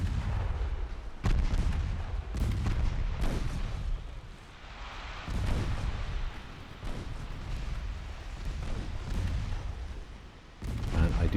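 Battleship main guns firing in the naval warfare game Ultimate Admiral Dreadnoughts, a series of heavy, booming blasts every second or two, each followed by a rumbling tail over a continuous low roar.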